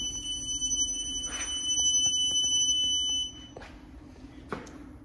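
Growatt 5000ES inverters power up with a high, steady electronic tone for about three seconds that then cuts out, followed by faint clicks and a soft knock in a quiet room.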